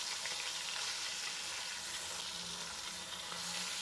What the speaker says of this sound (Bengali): এরপর মাছগুলোকে দু মিনিটের জন্য হতে দিলাম দু মিনিট পর মাছগুলোকে উল্টে নিলাম